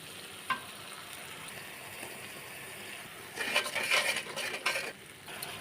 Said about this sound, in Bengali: কড়াইতে আমি পেস্টটা ঢেলে দিয়েছি, এখন আমি খুন্তির সাহায্যে একটু নেড়ে নিচ্ছি।